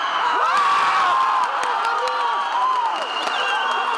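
Wrestling fans in an arena cheering before the final bout, a dense steady crowd roar with whoops, whistles and scattered clapping throughout.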